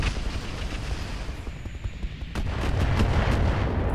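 Mech weapons firing in the battle game Roguetech, a steady roar of heavy blasts and booming impacts that grows louder toward the end, with no talking.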